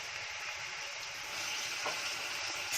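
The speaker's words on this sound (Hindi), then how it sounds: "एक इधर टमाटर की बघार चढ़ाई हूँ, जिसमें डालूंगी आधा किलो प्याज है काटा हुआ, 2 बड़े बड़े चम्मच तेल" Half a kilo of chopped onions fry in two big spoons of oil for a tomato tempering, a steady close sizzle with no talk.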